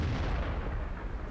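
A tank cannon fires in a tank video game, a heavy, loud booming blast that fills the whole moment with dense rumbling low end and decaying roar.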